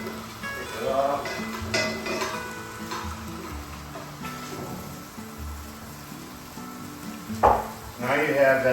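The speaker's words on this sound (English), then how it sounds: "Perfect temperature for frying." Chicken browning in a pan on a wood burning stove gives a steady close sizzle and crackle, with brief clatters of stirring or utensils and a short louder burst near the end.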